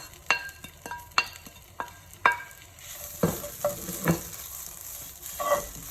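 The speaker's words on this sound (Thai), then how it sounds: "คั่วเครื่องแกงให้มีกลิ่นหอมนะคะ ขั้นตอนนี้เจ้ยไม่ได้ใส่น้ำมันค่ะ" Curry paste for a Thai pork rib and mixed vegetable curry, dry-roasted in a pan with no oil, gives repeated sharp scraping stirs of a utensil against the pan with a soft crackle between them, close and fairly loud.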